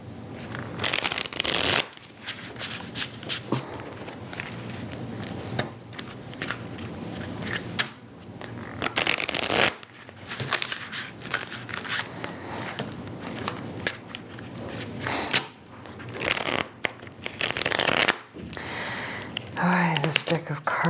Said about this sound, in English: This deck of cards, I love it, but it's so hard to shuffle